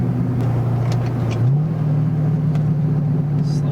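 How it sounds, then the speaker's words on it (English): A C5 Corvette engine idles steadily up close, then its pitch lifts slightly and holds as it is revved gently, a continuous mid-low drone with no speech. "I'll get into second gear so that I can really rev it out"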